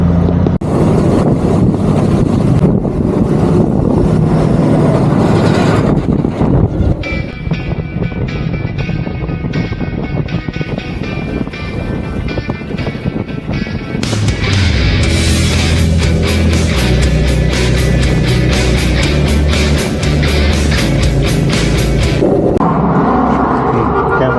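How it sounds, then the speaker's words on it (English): Traffic released from a roadblock near Nukus rolls past, engine tones shifting and rising from one vehicle to the next while wind buffets the microphone throughout. "Now all the vehicles are released."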